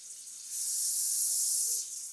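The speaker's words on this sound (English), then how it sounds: "Just a quick spray." Short spray of cooking spray from an aerosol can onto a pizza pan, a steady broadband hiss lasting just over a second, close and fairly loud, with quiet room background before and after.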